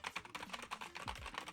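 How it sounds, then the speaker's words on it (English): Rapid typing on a keyboard, a quick run of crisp, close clicks and clacks in an uneven rhythm, heard alone without talk. "I don't want to frick up my video if I start typing on my keyboard"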